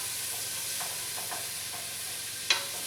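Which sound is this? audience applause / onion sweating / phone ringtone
onion sweating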